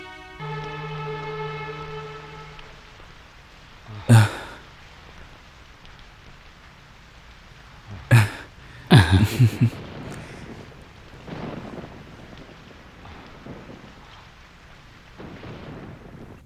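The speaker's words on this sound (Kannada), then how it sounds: "ಜೋರಾಗಿ ಬರ್ತಿದೆ ಮಳೆ." Steady heavy rain pours throughout, broken by a few sharp loud cracks and bangs that fit close thunder, with a brief tonal hum early on and no clear talk.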